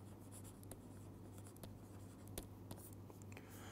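Faint handwriting during a quantum mechanics lecture, with soft scattered pen or chalk strokes and taps over a low steady electrical hum.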